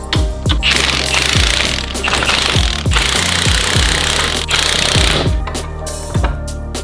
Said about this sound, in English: To be able to turn this, I just need to compress the spring.